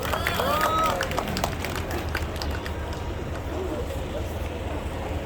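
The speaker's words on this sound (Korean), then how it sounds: "박수로 맞아주시기 바랍니다." Rally crowd clapping and cheering continuously to welcome a speaker, a dense, steady wash of applause with a few whistles near the start.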